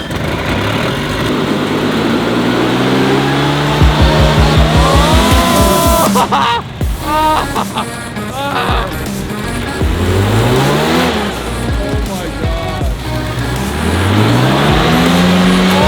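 A Ferrari revs and swerves, with engine notes climbing and falling and tires squealing in repeated sweeps, loud and close throughout, with voices talking over it.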